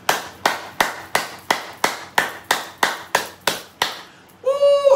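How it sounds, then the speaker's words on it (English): A church congregation claps hands in steady unison: about a dozen loud, evenly spaced claps, followed by a brief sustained tonal sound at the end. "God said, clap your hands."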